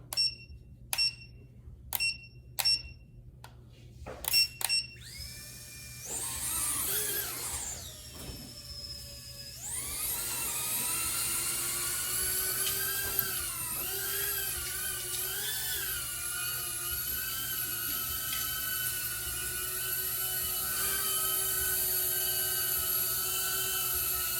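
An Emax Tiny Hawk S micro drone gives a run of short electronic beeps, then its tiny motors spin up into a high, thin whine that wavers and holds steady close by.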